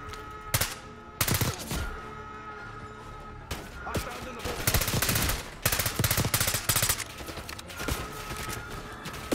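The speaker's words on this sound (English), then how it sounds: "I'm just shooting the bad guys" Bursts of rifle and machine-gun fire in the Call of Duty: Black Ops 6 shooter game, from single sharp shots to rapid volleys, loud and close, with talk mixed in between the shots.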